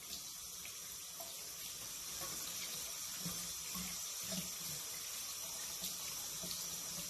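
A makeup brush is rubbed on a bar of soap under a running tap to lift out foundation, with steady, fairly loud streaming water throughout and small shifts as the brush moves in the flow.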